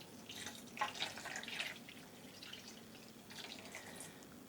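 Water is added to cotton yarn being prepared for dyeing, a faint close splash and trickle that rises briefly and then settles into a soft dribble, with no talk.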